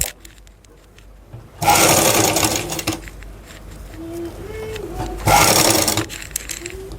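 A sewing machine stitching fabric along a garment neckline, two loud sustained bursts of fast mechanical whirring separated by quiet handling noises and a faint voice.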